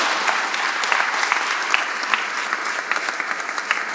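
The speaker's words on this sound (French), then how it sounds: "je voudrais qu'on applaudisse l'ensemble de mes conseillers municipaux" An audience at the inauguration of Henri Fabre's Canard seaplane at an aeronautics museum in Provence claps for municipal councillors, dense steady applause with scattered louder claps, sustained throughout without voices.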